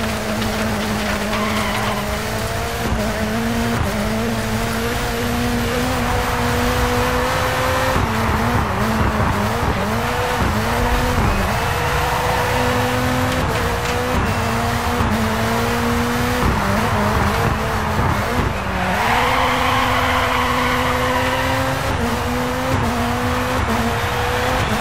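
A rallycross race car in DiRT 4 at Lynden Hill, England, engine roaring and revving through gear changes from the driver's seat, with tyre squeal and skids, loud and continuous.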